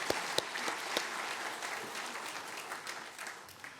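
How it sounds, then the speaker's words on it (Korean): A church congregation applauds during a Sunday worship service, producing a steady, dense wash of hand claps from the whole room. A few sharper claps stand out near the start, and the applause holds its level for about four seconds. "큰 박수로 한번 격려합시다."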